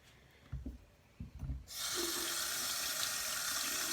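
Tap water runs steadily into a sink while sterling silver jewelry is rinsed beneath it, a bright continuous splashing hiss that begins suddenly after a few soft handling knocks.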